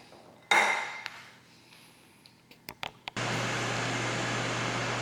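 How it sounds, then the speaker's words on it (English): A Ninja Foodi air fryer preheating switches on partway through with a steady, loud fan whoosh and low hum that holds evenly to the end, following a few clattering kitchen clicks and knocks. "My air fryer has been preheating, and I gave it 10 minutes."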